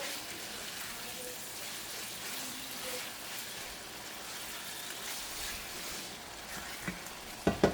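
A dish simmers in a pan with a soft, continuous bubbling sizzle, faint and fairly even, followed by a few sharp utensil clicks at the very end.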